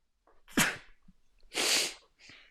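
Two close sneezes a second apart, each with a sharp inhaled lead-in and a breathy burst, followed by a softer exhale.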